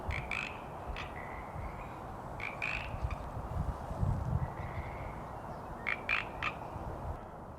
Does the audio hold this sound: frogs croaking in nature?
yes